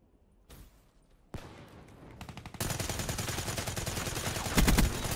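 Gunfire in a shooter game: a few sharp isolated shots, then rapid sustained automatic bursts growing denser and louder toward the end, no talking.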